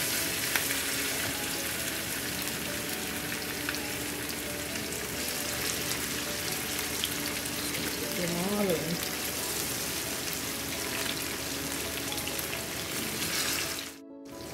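Fish sizzles steadily in hot oil in a pan with garlic and thyme, a loud, continuous frying hiss with a brief tonal warble midway.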